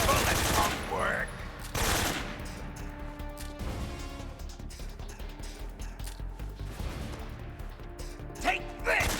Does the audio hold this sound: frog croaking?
no